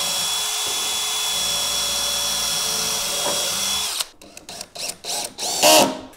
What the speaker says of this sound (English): And then I'll drill my pilot hole and I'll put my screw in.